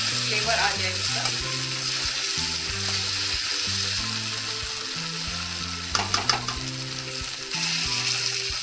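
Potatoes with salt, chilli and spices cooking in a pan for savoury daliya: a strong, continuous sizzle with occasional stirring clatter, under soft background music.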